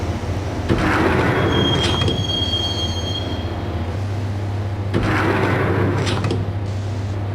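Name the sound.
riding a train in video game Max Payne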